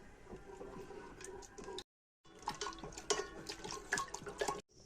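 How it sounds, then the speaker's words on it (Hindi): Yakhni broth with cauliflower comes to a boil in a pot on a gas flame in Kashmir, a close, faint, continuous bubbling and popping with a brief gap partway through. "उबाल आ चुका है यखनी में"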